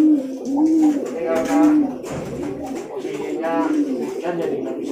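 Repeated soft, low cooing from doves or pigeons, fairly close, with people talking throughout.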